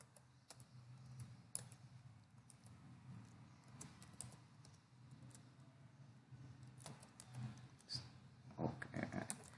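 Keys on a computer keyboard clatter quietly as code is typed in the vi editor in a Linux terminal, in irregular bursts of clicks with a few louder taps near the end.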